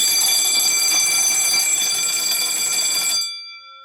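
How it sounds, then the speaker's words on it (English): A 1970s burglar alarm bell, tripped by an opened window, clangs loudly and continuously at close range for about three seconds, then stops and rings out briefly. "so let's trip the alarm now"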